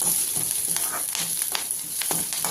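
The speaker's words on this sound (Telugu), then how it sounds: "పచ్చిమిర్చి కూడా వేగిన తర్వాత 2 రెబ్బల కరివేపాకును కూడా వేసుకుని" Green chilies and curry leaves fry in hot oil for a capsicum chutney, giving a steady close sizzle with soft crackles and occasional stirring scrapes.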